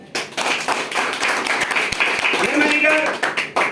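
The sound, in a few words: audience applause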